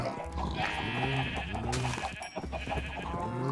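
Several bleats from a sheep in a video game, wavering calls repeating at a steady pace, near and clear over a faint ambient bed, with no voices.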